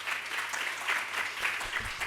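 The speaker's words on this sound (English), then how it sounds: "Round of applause, please." Steady applause from a conference audience at an Islamic psychology education event in Qatar, a dense even patter of many hands sustained throughout, fairly close with no talking over it.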